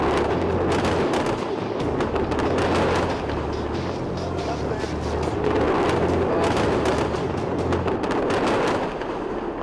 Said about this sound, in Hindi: बारूद के ढेर पर बैठे मिडिल ईस्ट में हर दिन एक विस्फोट और भारी बमबारी देखी जा रही है।